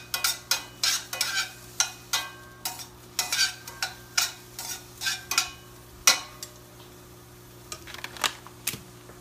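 Spaghetti squash browning in a pan while a utensil scrapes and stirs it, sharp rhythmic scraping strokes repeating over a soft steady sizzle, close and fairly loud.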